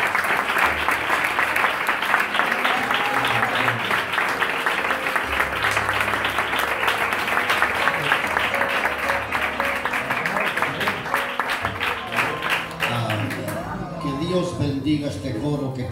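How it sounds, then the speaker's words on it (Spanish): A church congregation applauds the choir during a Sunday service, a steady sustained wash of clapping with some voices mixed in, fading out near the end. "las hermanas del coro se merecen un aplauso"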